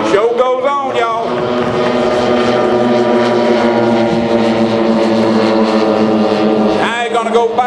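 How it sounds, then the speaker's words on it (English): A 20-foot radio-controlled B-29 bomber model, powered by four DA-100 gas engines, drones overhead with a loud, steady, layered propeller roar. The sound holds for several seconds at an air show, and an announcer talks over it. "Now y'all realize this is a 20-foot B-29. It's powered by 4 DA-100s"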